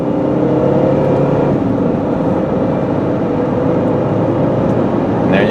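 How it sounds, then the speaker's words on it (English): A 2005 Saturn Vue AWD with a V6 engine pulls steadily from inside the cabin, a smooth sustained engine drone and road hum that holds even throughout, with no talking. "I really like this V6 engine in this."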